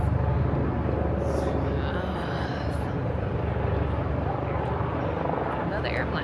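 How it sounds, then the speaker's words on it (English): Airplane passing over New York City, its broad, continuous engine roar filling the background while a person talks closely over it. "Another airplane."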